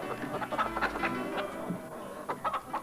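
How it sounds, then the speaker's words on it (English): Chicken clucking heard as a series of short squawks and clucks in a late-night ITV continuity segment from 1989, close and fairly loud with no speech over it. "There's always a chicken on Nighttime."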